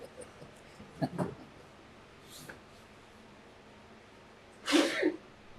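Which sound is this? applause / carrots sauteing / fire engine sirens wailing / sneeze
sneeze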